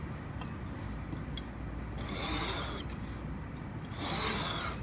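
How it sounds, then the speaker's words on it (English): A hand saw drawn gently through thin wood veneer produces a continuous close raspy scraping, with two broader swells of rougher sawing noise and no talking. "I'm going to cut off just a little bit of veneer here."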